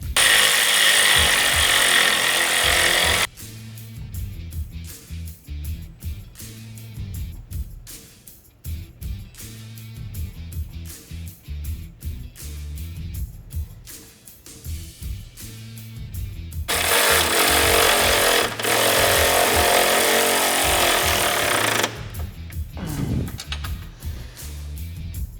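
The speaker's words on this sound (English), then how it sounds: "go ahead and fully tighten all of our A-arm bolts, and then we will fully tighten our hardware securing the snowplow mount to our brackets" A power tool drives the hardware on a snow plow mount for a Polaris General XP 1000. Long loud whirring runs alternate with bursts of short clicking and ratcheting, and there is no talk.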